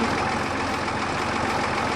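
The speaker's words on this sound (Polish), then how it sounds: "bo też głośny silnik, taki widać, że na starego wygląda" Loud old engine of a harvest machine idling steadily, a dense continuous low rumble with no break and no voices.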